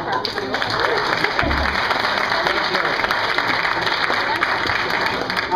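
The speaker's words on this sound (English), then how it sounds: "So let's give a big round of applause for Matt." Sustained audience applause at a PechaKucha Night event greets a speaker, continuous and fairly loud, with talk audible beneath the clapping.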